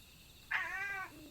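A cat gives a single short meow while being petted, close and clear against a quiet room, lasting about half a second.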